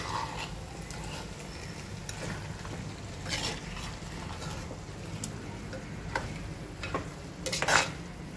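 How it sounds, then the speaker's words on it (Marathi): Shark pieces fry in hot oil in a home kitchen pan for a curry, a steady sizzle broken by intermittent scraping clicks of a spoon stirring and turning them. "आता व्यवस्थित ना ह्या तेलात ना ही मुशी परतून घेऊया।"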